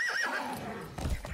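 A horse neighs loudly in Far Cry 6, a high whinny that falls off, followed by a brief rumble of hooves and movement with no talking.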